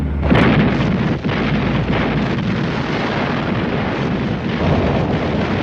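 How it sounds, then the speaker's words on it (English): Naval guns of American cruisers and battleships, including massive 14- and 16-inch weapons, firing at sea. The sound is a continuous heavy roar of booms and rumbling blasts that stays loud and dense throughout. "the guns of the American cruisers and battleships, 64 of them massive 14 or 16-inch weapons, prepared to fire on the approaching Japanese column"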